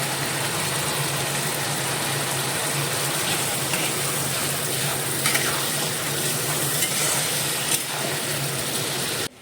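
Spice masala is stir-fried in a pan, producing a loud, continuous sizzle with faint scraping of a spatula, steady throughout and close to the microphone.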